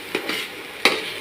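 Tomato and spices sizzle steadily in a pan for a prawn and coconut curry, with three quick spoon scrapes stirring through, the last one loudest, and no voices.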